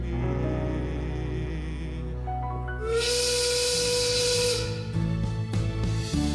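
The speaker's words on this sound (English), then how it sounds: "I hear the whistle as the factory is called" A sustained factory steam whistle sounds over music in a live theater performance, with a bright hissing burst of steam joining partway through, loud and continuous.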